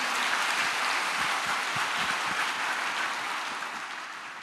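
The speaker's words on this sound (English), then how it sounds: "Let's give them a hand and a clap again." A crowd applauds continuously, a dense patter of clapping that holds steady before gradually fading toward the end.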